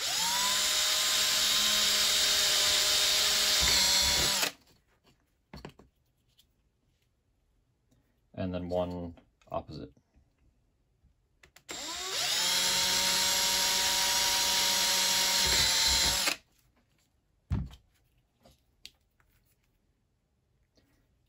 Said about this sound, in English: So we're going to drill 2 holes in the top of this cap.